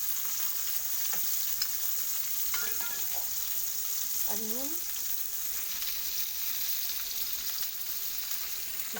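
Onions frying with whole cumin in oil in a pan, a steady broadband sizzle throughout, with occasional stirring clinks and a brief spoken line partway through.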